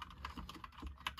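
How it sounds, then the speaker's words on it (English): Keys on a Razer BlackWidow V3 Mini keyboard clack in a quick run of about half a dozen close, fairly quiet presses with a soft mechanical click, heard alone. "The backspace and the space bar is just like super loud."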